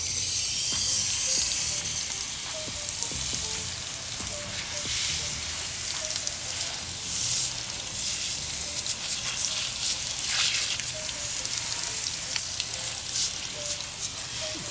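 Water hose spraying a Jeep wheel rim to rinse off wheel cleaner, a loud, steady hissing spray that continues without a break and shifts slightly as the stream moves across the wheel.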